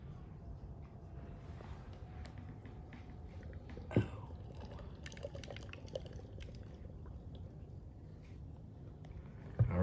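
Hamm's lager poured into a glass, a quiet steady liquid pour with faint splashing and a few small clinks, recorded up close at low level.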